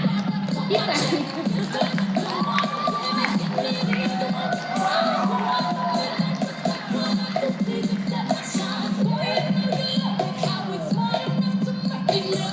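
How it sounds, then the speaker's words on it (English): A crowd at a chamber of commerce awards celebration cheers and claps for an honoree, a loud, sustained wash of whoops, shouts and applause with some children's voices mixed in. "Keep clapping. Keep clapping."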